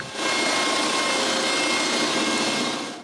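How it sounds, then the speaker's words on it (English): Drill boring an air intake hole through a wooden bellows board, a steady broadband roar that starts abruptly and holds for a few seconds close by before tapering off. "Then I can drill the air intake hole."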